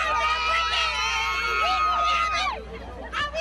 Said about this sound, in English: the crowd erupted in jubilation